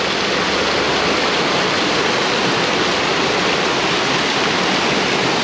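Water rushes steadily along the trail to Cascade Falls in Mill Valley, a loud, unbroken broadband roar with no voices and no pauses.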